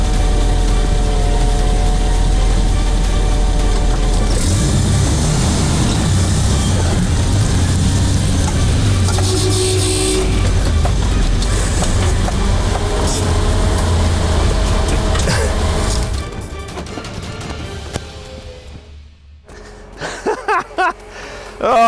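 Toyota Bundera 4x4 driving forward during a winch recovery, a loud, steady low engine drone running close for most of the clip before dropping away near the end into quieter rustling.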